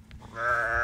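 A single sheep gives a close, wavering bleat that rises out of quiet farm background and holds to the end, at a shepherds' flock of ewes and lambs for sale.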